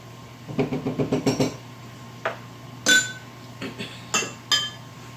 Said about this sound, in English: I got tamarind paste. If I can get it out this little spoon here.